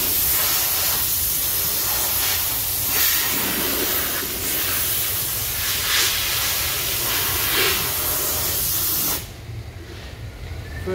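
A spray gun lays primer over car body filler in a repair shop with a loud, continuous hiss that swells slightly in passes, then cuts off near the end, leaving a quieter background.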